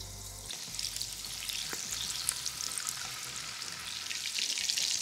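Prawns sizzle steadily in a hot pan, a bright crackling fry that stays fairly even and close, with no talking.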